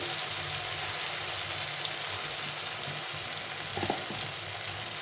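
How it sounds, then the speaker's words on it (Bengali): Chopped tomatoes fry in a pan with salt added, a steady low sizzle running throughout with faint stirring scrapes, fairly quiet and with no one talking. "টমেটোটা ভাজা ভাজা হয়ে গেছে আমি এখানে স্বাদ মতো লবণ দিয়ে দিলাম"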